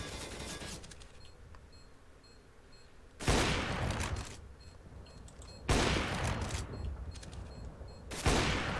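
Gunfire from a Counter-Strike: Global Offensive match on the Overpass map: three sharp, loud shots spaced a couple of seconds apart, each with a short decaying tail, over a quiet background hum.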